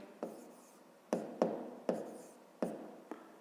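A pen writes numbers on paper in a quiet room as a series of soft, sharp taps and brief scratching strokes, about six strokes in a slow uneven rhythm.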